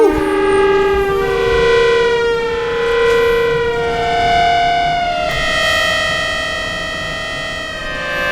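Korg Minilogue synthesizer sound effect: a loud, sustained, siren-like tone with stacked harmonics that slowly sweeps and wavers in pitch, alone without any talk.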